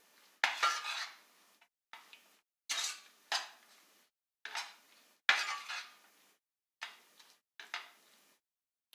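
Coconut ladoo mixture is stirred in a pan in short scraping, clinking strokes, each followed by a brief silence in an uneven rhythm.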